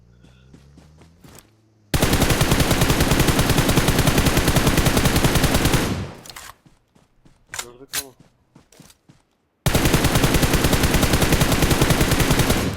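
Automatic gunfire sprays in the PUBG Mobile video game, two long, loud, rapid bursts separated by a quieter gap with scattered shots and a brief spoken exchange.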